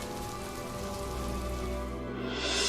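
Steady rain hisses down on surfaces, a dense, even patter that stays loud and constant throughout with no voices over it, set in an animated village story about a fisherman.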